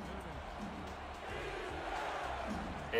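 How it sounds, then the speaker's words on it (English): Stadium crowd at a simulated football game between Denver and Las Vegas, a steady broad roar building on third down, with some voices calling out within the noise. "the crowd here getting pumped up here for third down"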